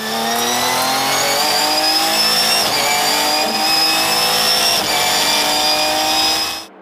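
A Ginetta G50 GT4 race car engine howls loud and close at Zolder circuit on a test day, holding a strong sustained roar with rising pitch sweeps as it accelerates through the gears, then cutting off sharply at the end.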